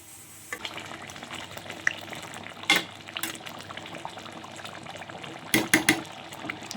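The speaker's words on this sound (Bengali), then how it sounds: "গরম জলটা দিয়ে দিলাম বন্ধুরা" Hot water poured into a pan of fish curry on the stove, a steady hissing, bubbling wash of liquid with a couple of louder splashy bursts near the end, close and with no voices.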